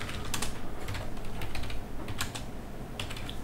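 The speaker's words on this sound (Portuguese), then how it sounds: "Vou digitar aqui o meu CPF, meu nome, os dados padrão de um cadastro" Personal registration details typed on a computer keyboard: a steady run of quick, close key clicks with brief irregular pauses, fairly loud, no speech.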